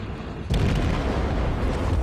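Loud, booming explosions from an aircraft carrier being sunk by armor-piercing fire in a naval video game, with a sudden heavy blast followed by sustained rumbling detonations.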